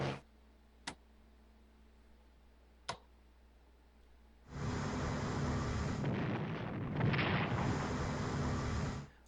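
A naval battle in the strategy game Strategic Command WW2: War in the Pacific gives two sharp interface clicks, then a loud, sustained rumbling explosion lasting about five seconds.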